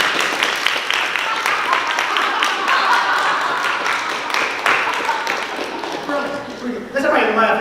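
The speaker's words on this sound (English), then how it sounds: "Let's give Julie another round of applause." A congregation applauds at a World Laughter Day service at Unity Little Rock, a loud mass of clapping from a crowd. Voices and cheering mix in, and the clapping builds again near the end.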